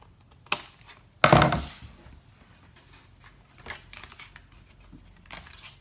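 Large scissors cut through cardstock during card making, a sharp snip followed by a loud crunching slice, then scattered light paper handling and rustling at a close distance.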